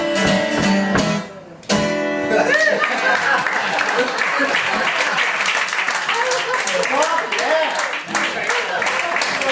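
Applause and clapping ring out after a burst of music, sustained and fairly loud, with a brief dip partway through.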